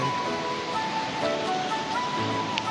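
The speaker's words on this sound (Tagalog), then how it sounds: "Ang lalaki ng alon ngayon guys." Large ocean waves wash at Patar Beach in Pangasinan, a steady broad roar of surf, fairly loud and continuous, with a faint tone running underneath.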